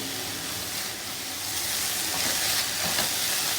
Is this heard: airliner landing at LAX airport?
no